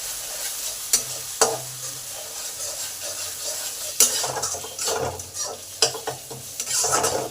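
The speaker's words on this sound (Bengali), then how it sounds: "মশলাগুলো ভালো করে আগে কষে নেব, যাতে এই মশলার কাঁচা গন্ধগুলো চলে যায়।" Turmeric and chili powder masala frying in a pan for a hilsa fish head and taro leaf dish, with a soft sizzle and irregular sharp spatula scrapes and knocks against the pan.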